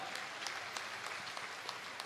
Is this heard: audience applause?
yes